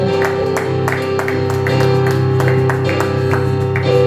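A congregation claps in a steady rhythm at a church worship service, in time with music playing underneath.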